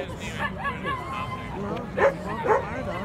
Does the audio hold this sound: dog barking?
yes